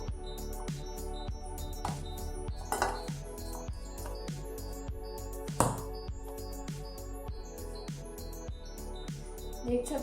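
Chapati flour dough is rubbed and pressed against a kitchen vessel as it is worked into a ball, giving repeated close knocks, clinks and scraping that ring faintly of metal.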